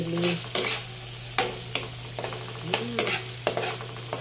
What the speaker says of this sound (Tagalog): Gisa naman natin ngayon ang kamatis, bawang at sibuyas.